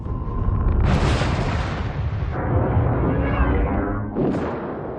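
The ship Canterbury exploding after a torpedo launch in a science-fiction space series: a loud, sustained roaring blast with deep rumble that surges, shifts and swells again, with no speech over it.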